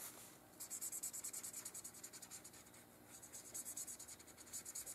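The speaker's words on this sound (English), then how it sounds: "I'm testing the marker on the edge of the paper" A marker scratches back and forth on the edge of a sheet of paper in quick, regular strokes, close and quiet, as test marks are made while crafting doodle bug embellishments, with brief pauses between runs of strokes.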